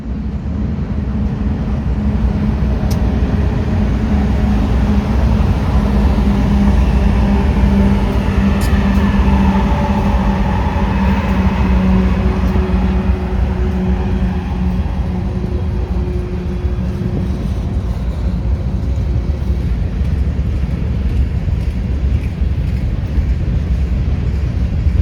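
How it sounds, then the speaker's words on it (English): A long eastbound intermodal freight train rolls slowly past at close range, a continuous heavy rumble of wheels and cars with faint metallic squeals, steady throughout with no talking. "the first of at least 2 eastbounds held up by that intermodal slowly rolled past"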